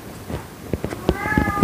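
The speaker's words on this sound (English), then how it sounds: "Freaking cat over there." A house cat meows several times nearby, short rising cries spaced about a tenth to a quarter second apart and growing louder, with a longer tonal meow near the end, heard indoors over faint room noise.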